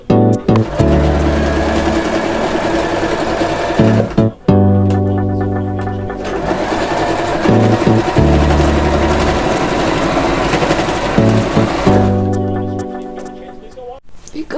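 A sewing machine stitches around the outside edge of a pinned-together pride flag, giving a loud, steady mechanical hum that runs almost without a break, with brief pauses near four and twelve seconds.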